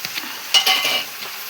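Brinjal curry with salt and turmeric cooks in a pan. A brief loud stir and sizzle swells in the middle of a soft, steady frying hiss.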